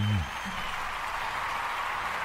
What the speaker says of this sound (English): A round of applause for Kenny.